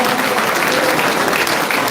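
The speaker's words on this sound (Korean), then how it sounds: "이 모든 영광 우리 박수로 뜨겁게 하나님 앞에 영광 올리겠습니다." Steady, loud applause from a large audience at a church awards ceremony in a Seoul hotel ballroom, a dense unbroken wash of clapping throughout the short stretch.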